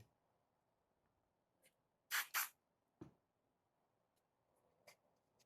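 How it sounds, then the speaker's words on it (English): Two quick hissing sprays of cleaner go onto a rag while cleaning a Glock Gen 5 magazine, close and fairly crisp, followed by a soft thud and small handling noises in an otherwise quiet room. "Just get you a little couple sprays of this on a rag."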